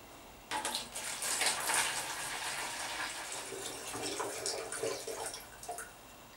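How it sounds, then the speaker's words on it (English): Water pours steadily into a plastic mouse trap bucket, a close, continuous splashing gush that starts abruptly and runs for about six seconds without pause or voices. "Take off the lid and fill it with water."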